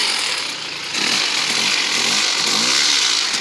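A Polaris ATV engine runs steadily during a four-wheel drive test, a loud continuous rumbling drone with a slight rise in intensity after the first second, no voices over it.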